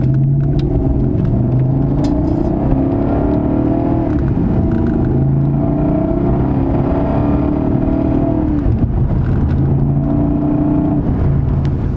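A 1998 BMW Alpina B10 (E39) engine drones steadily from inside the cabin during engine braking, its pitch shifting down and rising as gears change down to first, with constant road rumble underneath.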